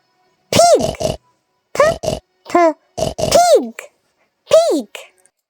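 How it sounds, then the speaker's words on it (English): A pig grunts and oinks in a farm setting, making short, close, loud bursts in an uneven run of about six calls separated by brief silences. "Pig."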